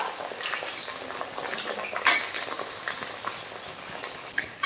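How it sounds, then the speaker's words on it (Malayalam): Chicken pieces for dragon chicken deep-fry close up in oil that sizzles and crackles steadily, a busy bubbling hiss with occasional sharper pops. "നമുക്കിത് നന്നായിട്ടൊന്ന് ഡീപ്പ് ഫ്രൈ ചെയ്തെടുക്കാം."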